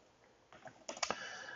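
Quick bursts of keystrokes on a computer keyboard while entering a search into a budget spreadsheet, close and quiet, a short run of clustered clicks.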